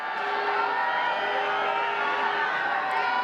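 A large schools hurling crowd at the Harty Cup final replay roars and cheers in a steady, dense wash of noise from start to finish, with no single voice standing out.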